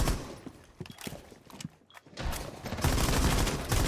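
Gunfire in a tactical shooter video game: sharp bursts of rapid shots crackle in uneven clusters, pause briefly, then return as a denser volley.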